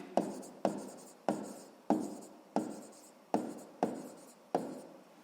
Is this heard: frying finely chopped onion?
no